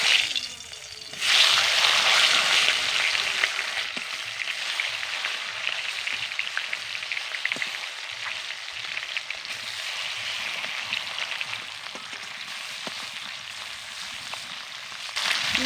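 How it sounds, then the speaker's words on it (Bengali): Fish fry in hot mustard oil, giving a loud, continuous sizzle that swells sharply just after the first second as the pieces go in, then crackles steadily close by with no voices. "এবার তেলের মধ্যে মাছগুলোকে দিয়ে দেব"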